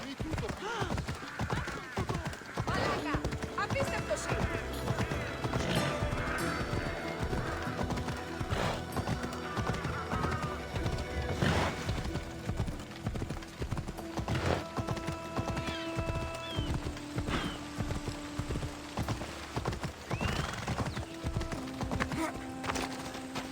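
Horse hooves clip-clop at a gallop with repeated neighs and whinnies while riding in the video game Assassin's Creed Odyssey, loud and steady, with game music and someone talking over it.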